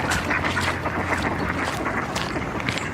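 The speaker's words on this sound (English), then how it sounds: "a duck and a drake." A duck and a drake quacking close by among water-side ground, with steady wind buffeting and rustle under the calls throughout.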